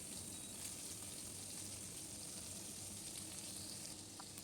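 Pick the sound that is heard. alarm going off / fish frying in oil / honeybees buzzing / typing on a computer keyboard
fish frying in oil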